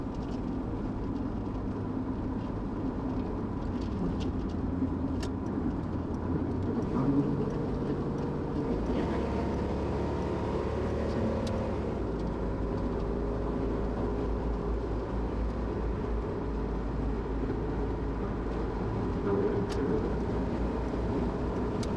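Steady low road rumble of traffic around a car driving through Grand Junction, Colorado, a continuous broadband drone with faint passing swells and no distinct events.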